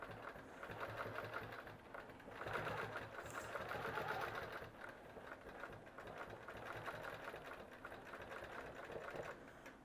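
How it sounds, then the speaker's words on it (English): Sewing machine stitching in the ditch beside a bra strap on a quilt, running in a continuous fast mechanical whir and rattle with slight surges in speed, close and moderately loud. "And then I am going to move up and stitch in the ditch on this side of the bra strap."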